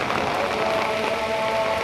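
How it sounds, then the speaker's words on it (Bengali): Steady, dense hiss of heavy rain pouring down in Dhaka, constant and close with no pauses, drumming evenly on surfaces. "অনেক জোরে বৃষ্টি নামছে"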